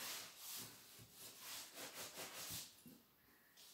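Rubbing strokes of a wooden drumstick burnishing a paper fold during bookbinding, a run of about eight close, even scrubbing passes, then quieter handling.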